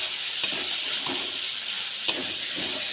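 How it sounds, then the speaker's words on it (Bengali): Water poured into a pan of bitter gourd frying with green chillies and turmeric, giving a steady loud sizzling hiss with two sharp spatters, close up and with no talking. "জল দিয়ে দেবো"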